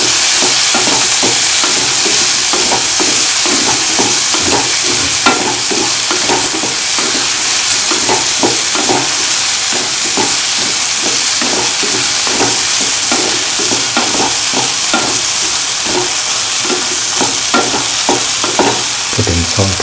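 Semolina honeycomb pancake batter (baghrir) is stirred briskly in a bowl, with steady, loud, rhythmic scraping strokes running the whole time and no voices.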